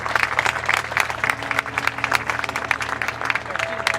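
An audience welcomes a guest with applause at a Sicilian screening event, a moderately loud crowd clapping with uneven bursts of hand claps over a faint steady hum.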